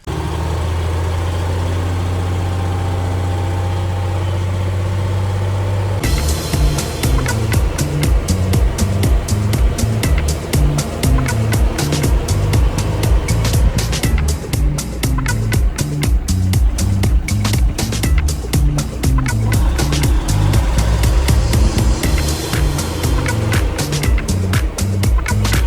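The Expanda-Side 6x6 truck drives onto the highway with a loud, deep engine drone that jumps up after a few seconds, then holds a heavy rumble with rapid rattling throughout.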